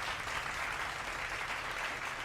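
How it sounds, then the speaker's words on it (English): Crowd applause during a TruckersFM live convoy broadcast, a dense, even wash of clapping at low level, steady throughout the short stretch without any talk over it. "Big round of applause, I appreciate you"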